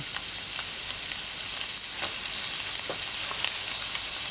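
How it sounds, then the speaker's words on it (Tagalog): Garlic sizzles loudly in plenty of olive oil for arroz valenciana, a dense, even frying crackle with faint stirring ticks throughout and no voices. "dito po ay gigisahin natin itong garlic"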